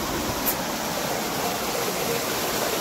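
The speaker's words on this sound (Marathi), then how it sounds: "दुसऱ्या बाजूक खळखळताना ह्योच पाण्याचा आवाज आहे" Continuous rushing water, a steady gurgling stream close by, with no voices.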